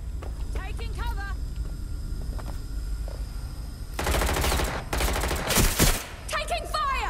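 Bursts of rapid automatic gunfire ring out in Watch Dogs Legion during a firefight in London, loud dense volleys in two main stretches, with brief shouted voices and clicks before them.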